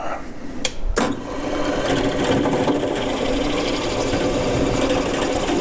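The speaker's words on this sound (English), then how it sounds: "And that goes down just enough to take a little chamfer off that edge there." Step drill cutting a small chamfer on the edge of a metal workpiece clamped in a vise on a mini lathe, a steady close whirring and grinding hum after a couple of sharp clicks at the start.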